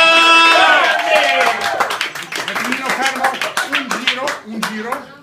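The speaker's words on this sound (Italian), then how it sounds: "Un applauso" Brief audience clapping at a cooking challenge show, rhythmic and close, under a loud voice shouting at the start and continuing talk as the claps settle into a scattered beat.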